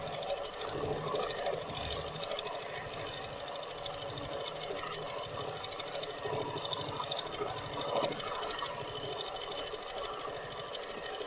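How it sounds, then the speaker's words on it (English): A Moxie XL longarm quilting machine doing free-motion stitching, heard as a continuous, fast mechanical needle chatter with a steady motor hum, close and loud. "And it's very good for doing the sort of free motion work that Liz is doing here."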